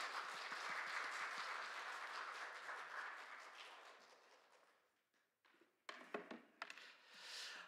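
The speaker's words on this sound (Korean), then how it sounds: "우리 목사님 박수로 환영하겠습니다" An audience at an autumn church sermon concert claps to welcome a pastor to the pulpit, a fairly faint, sustained round of applause that fades out and gives way to a few scattered claps.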